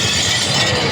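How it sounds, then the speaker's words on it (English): Glass shattering is played as a demo through a 60W carbon-fiber desktop speaker with a silk-dome tweeter and captured by a microphone; the sound is a loud, dense burst of bright breaking noise that fills the moment. "You won't just hear glass break."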